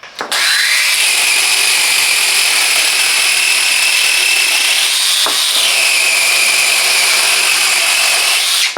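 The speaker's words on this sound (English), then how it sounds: "A powerful and portable tool that makes trimming and cutting wood a breeze." A Parkside 20V cordless wood cutter whines steadily and loudly as it cuts through wood, the pitch dipping briefly midway before the motor evens out again.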